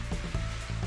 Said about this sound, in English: you know when a hot dog is done. It's got that sizzle on the side of the end there